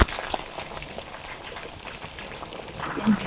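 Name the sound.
curry gravy boiling in a pot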